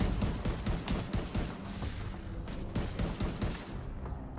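Rapid, dense gunfire from the video game Division 2, with sustained bursts and overlapping shots forming a constant loud barrage.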